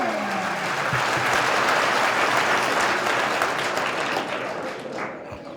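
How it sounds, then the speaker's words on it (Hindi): Enthusiastic crowd applause, dense and sustained, gradually tapering off near the end. "तालियां बजाते हैं आपको।"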